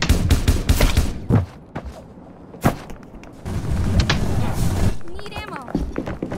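Gunfire in the Roblox game Vampire Hunters 3, a rapid burst of loud shots at the start, then scattered single bangs amid game noise and a voice talking over it.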